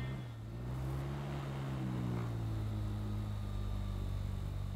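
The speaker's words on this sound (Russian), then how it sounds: "мистер Эвот с супругой сел в машину" A car driving off in a dramatized radio story, a continuous low engine drone with a rising then steady pitch, moderately loud and alone.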